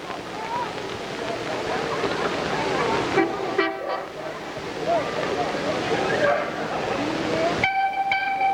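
A locomotive rolls along in a town's sesquicentennial parade, a continuous rumbling drone under crowd noise and talk, with short whistle or horn toots near the middle and a sustained tonal blast at the end.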